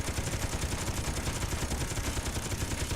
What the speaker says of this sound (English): I can shoot as much as I want, I can dent it, but I'm never going to go through